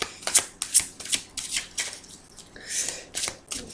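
Tarot cards cut and shuffled by hand in a quiet room, a run of crisp riffling flutters and soft slaps repeating close up, with no voice over them.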